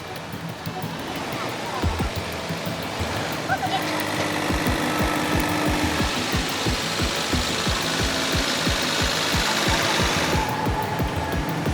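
A Caterpillar D8 bulldozer with a Cat C15 diesel engine runs with a heavy, steady rhythmic knocking thrum. It is loud and close, backed by a constant broadband rumble.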